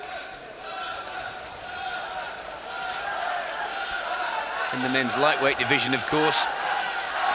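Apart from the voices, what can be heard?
boxing arena crowd cheering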